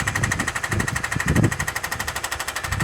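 A hammer, likely powered, chips away at uneven rock on a construction site being cleared for building, a steady rapid rattling pulse heard from a short distance, continuous and loud throughout.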